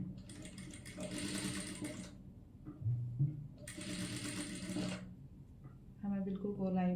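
A sewing machine stitches a naira cut kurti in two long bursts of rapid, steady whirring and clicking, each separated by short pauses, with a brief voice and handling noises in between.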